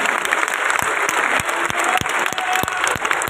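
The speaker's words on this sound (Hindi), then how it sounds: "एक बार जोरदार तालियों से आप उनका स्वागत करें" A large crowd at a grand welcoming ceremony for Assam's governor Gulabchand Kataria breaks into sustained, loud applause, a dense wash of clapping with sharp individual claps standing out near the microphone.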